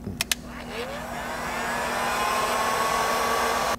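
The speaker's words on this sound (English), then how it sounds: "using our heat gun, we'll shrink this down so that it's a little bit more secure even and is weather tight" A heat gun blows steadily while shrinking heat-shrink tubing over wire crimps during a camera relocation bracket install on a Land Cruiser 200 Series or LX 570. A couple of sharp clicks come first, then a continuous close whooshing hum that builds slightly.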